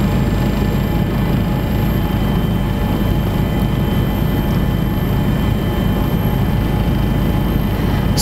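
An East Java regional police helicopter flies over a search for shipwreck survivors at sea. Its engine and rotor make a loud, unbroken drone that holds steady the whole time.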